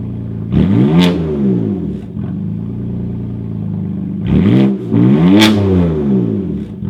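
BMW F80 M3 with a titanium exhaust cold-starts loudly, and the engine gives two sharp revs that rise and fall, with a steady raspy idle between them.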